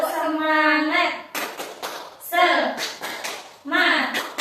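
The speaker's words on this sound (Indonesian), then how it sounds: "Kita tepuk semangat dulu ya biar kita tambah semangat." A classroom of children doing a rhythmic clapping chant led by a teacher, bursts of sharp claps alternating with sung voices in short repeated phrases.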